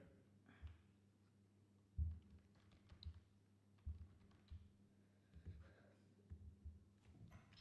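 Typing on a computer keyboard, quiet irregular bursts of key taps and louder thumps of the larger keys, close by and alone.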